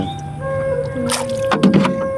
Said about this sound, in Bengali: আপনারা এখন দেখছেন নাজিয়াত নৌকা চালাচ্ছে